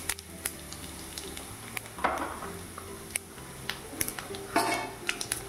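Urad dal, chana dal, cumin and mustard seeds frying in hot oil: a faint sizzle under scattered sharp pops and clinks of a spoon against the pan, close by.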